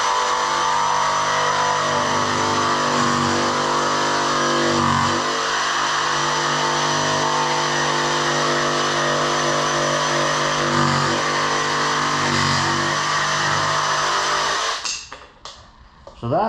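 A DeWalt cordless jigsaw cuts through 3/4 inch oak with a steady, loud buzzing drone and rhythmic blade chatter, carrying on for about fifteen seconds before it stops abruptly.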